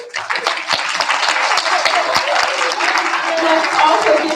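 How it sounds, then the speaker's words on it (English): Applause for kindergarten and first grade students at a school awards assembly: steady clapping from a seated crowd filling the room with dense, continuous patter, with scattered voices mixed in. "Let's give a congratulations round of applause to all the students who earned awards"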